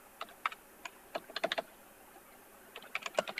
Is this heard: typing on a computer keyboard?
yes